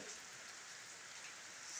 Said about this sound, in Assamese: এয়া দেখিছেনে বৰষুণৰ টোপাল কেনেকুৱা বৰষুণ দিছে।